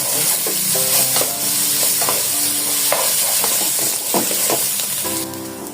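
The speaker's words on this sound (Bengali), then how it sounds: "এখন এটা দিয়ে ভালো করে নাড়াচাড়া করবো" Khichuri of atap rice with onion paste being stirred in a sizzling pan, a spoon scraping and clinking steadily over loud frying, with no talking.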